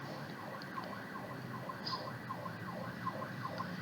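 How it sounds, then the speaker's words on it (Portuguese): An emergency siren passing along the street outside, wailing in a repeating rise-and-fall cycle, heard indoors at a distance and fairly faint, alone with no speech. "provavelmente essa sirene vai estar perturbando vocês aí também"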